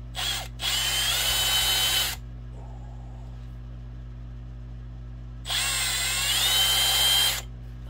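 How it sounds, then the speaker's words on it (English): Power drill boring pilot holes through a powder horn for a trade gun, two loud sustained bursts of whining drilling separated by a quieter pause, close up with steady background hum. "Now I'm going to drill pilot holes for each of these."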